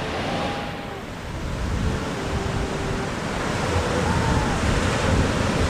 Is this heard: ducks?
no